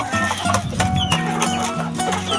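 Six-month-old Shamo chickens cluck in a steady, busy stream of short calls, close by and fairly loud, with other farmyard noise layered underneath.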